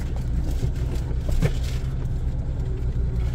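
Car driving along a deep rural road in Suphan Buri farm country, a steady low engine rumble and road noise from inside the cabin, continuous and moderately loud, with no talk.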